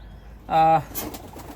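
A Teddy pigeon lets out a single short, close, harmonic coo, followed by faint rustling and soft background noise.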